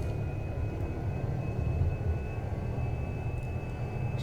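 Steady low drone of a Cessna 208B Grand Caravan's turboprop engine idling while taxiing in X-Plane 11, a constant rumble with a faint high whine and no voices.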